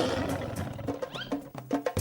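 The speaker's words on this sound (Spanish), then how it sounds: "La miró, le dijo que se fuera con un rugido" A cartoon lion's roar in an animated children's story, a loud growling burst with rising strained tones, followed by a few shorter grunting roars in quick succession.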